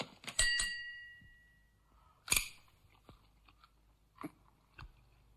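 Crunching bites of a metal fork being eaten as a stage stunt, with a couple of sharp metallic crunches followed by quieter scattered chewing clicks, close and with no talk.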